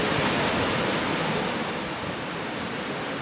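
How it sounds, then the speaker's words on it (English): Chiapara waterfall beside the highway near Athirapally, Kerala, roars as a steady broadband wash of falling water, loud and constant without any voices. "there is another waterfall which is Chiapara waterfalls"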